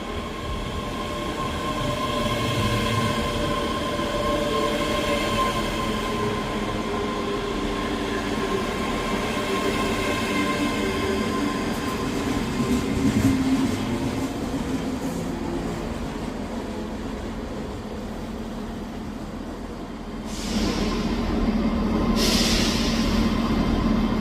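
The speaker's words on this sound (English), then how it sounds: "This train is formed of 6 carriages." A six-carriage train rumbles steadily through Edinburgh Haymarket station, with a sustained whine and rolling wheel noise over about twenty seconds, then a brief hiss near the end as it slows.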